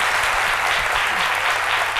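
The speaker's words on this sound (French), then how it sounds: "Je vous demande de l'applaudir très très fort." Studio audience on a French midday talk show applauding loudly and steadily, a dense wash of clapping that holds at full strength throughout.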